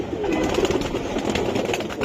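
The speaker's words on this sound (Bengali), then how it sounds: "বাহ, অ্যালুমিনিয়াম কবুতর, পুরো অ্যালুমিনিয়াম ভাই।" A male aluminium-coloured pigeon coos in low, throaty murmurs, close by, against a dense, noisy background of other birds.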